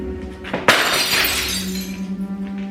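A single sharp crash of something shattering, followed by a brief spray of breaking fragments that quickly fades away.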